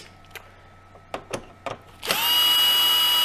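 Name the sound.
power screwdriver unscrewing screws from Philips LatteGo espresso machine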